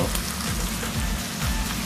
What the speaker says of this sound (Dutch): Dus hij is nog mooi aan het bakken.